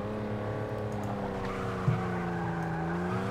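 Racing car in Forza 6 losing grip and spinning out, its engine droning steadily while tires squeal in a sustained, wavering screech, loud and close with no talk.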